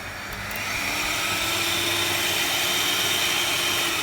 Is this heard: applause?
no